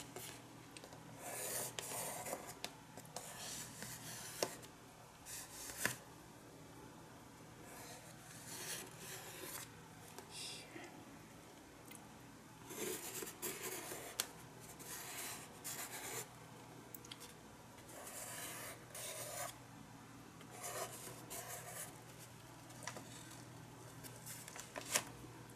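Pencil sketching on a journal page, steady close scratchy strokes and rubbing in repeated bursts with short pauses between, continuing throughout without talk.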